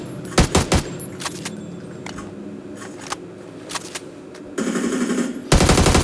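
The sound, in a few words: gunfire in a video game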